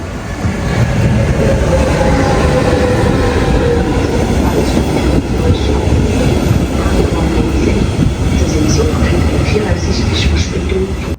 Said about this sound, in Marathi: ट्रेन आहे आमची